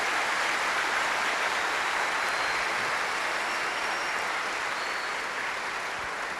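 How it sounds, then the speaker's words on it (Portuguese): A church congregation applauding, a dense, steady wash of clapping that holds at an even level throughout and eases slightly at the end, with no voices on top. "Olha, aplaudir essa palavra."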